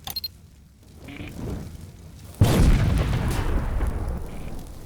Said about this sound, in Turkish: Bir iki tane daha napalm atayım